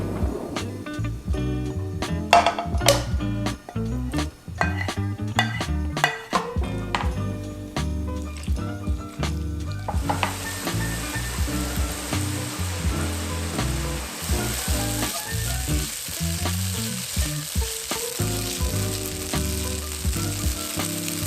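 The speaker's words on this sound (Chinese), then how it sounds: "我们先把豆腐跟豆包把它丢进去，把它炒碎，炒到金黄。" Crumbled tofu and bean curd sheets stir-fry in a wok until golden, a continuous loud sizzle with frequent scraping and clattering of a spatula against the pan, close up and without talk.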